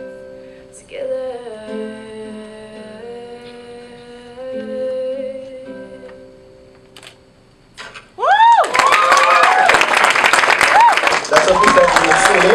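Loud applause and cheering burst out at an award ceremony and dinner, following a stretch of quieter sustained tones, with clapping and whoops continuing strongly to the end.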